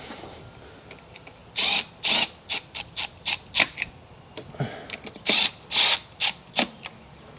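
Screws being driven back in on a 1990 Mercedes 560SEC AMG during a tune-up: a series of short, close ratcheting or whirring bursts, about a dozen in quick uneven rhythm, each lasting a fraction of a second.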